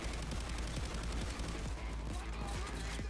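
Rapid gunfire in the video game PAYDAY 2, a dense continuous rattle of fast shots under a loud game mix, with faint voices in the background.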